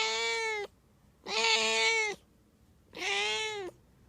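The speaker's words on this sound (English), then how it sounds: "Freaking cat!" A cat meows three times in steady succession, each call long, loud and close, with short quiet gaps between them and no other voices.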